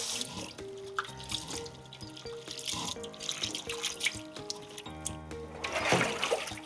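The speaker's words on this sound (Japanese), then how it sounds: "それを水で一回洗い流します" Boiled shredded potatoes rinsed under a running kitchen tap, a steady stream of water splashing and gurgling in a sink with occasional handling noises, close by.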